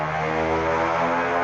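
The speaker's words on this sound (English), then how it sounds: "Sorry for the motorcycle noise in the background." A steady motorcycle engine drone hums continuously in the background, loud and unbroken, with no voices over it.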